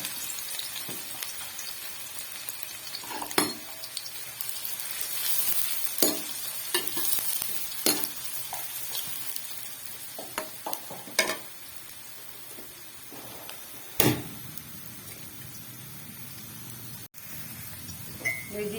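Chopped onions, cut large, fry in Kashmiri King oil in a kadai, giving a steady sizzle with occasional stirring scrapes and clinks of a spoon against the pan, close and moderately loud with no talking.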